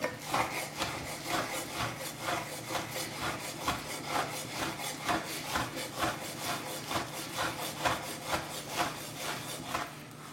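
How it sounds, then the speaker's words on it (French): A knife chops raw beef for an Asian-style beef tartare on a cutting board, a steady fast run of close, crisp strikes that continues evenly for about ten seconds with no talking. "une fois qu'on l'a haché une première fois, on peut revenir hacher encore un peu pour avoir quelque chose d'un peu plus fin"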